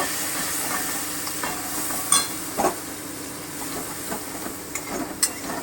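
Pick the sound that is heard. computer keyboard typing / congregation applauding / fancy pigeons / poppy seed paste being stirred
poppy seed paste being stirred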